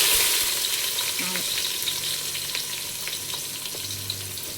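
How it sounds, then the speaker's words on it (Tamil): Steady, close sizzling of onions frying in hot oil for a 1 kg batch of mutton biryani, a dense crackling hiss with occasional louder pops and faint stirring, no talking. "வெங்காயம் நல்லா வதங்கட்டும்."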